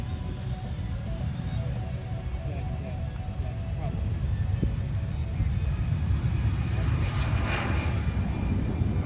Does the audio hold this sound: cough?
no